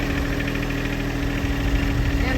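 A tractor engine idling while pushing a large boulder across a rural property, a steady, continuous low rumble with faint knocking, close and unbroken throughout.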